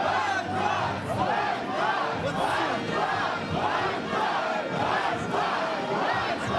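A dense crowd of protesters in Ukraine shouts and chants in steady, rising waves, loud and close, as workers are forced out of a building through a jeering gauntlet.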